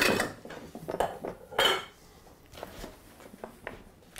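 Pots and metal utensils clank and scrape in a clatter of irregular knocks, some sharp and close, others softer, with no talking.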